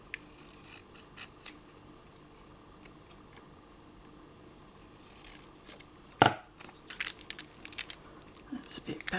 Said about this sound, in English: Maybe I'll cut it down just a tad more.